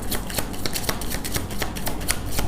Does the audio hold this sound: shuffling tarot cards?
yes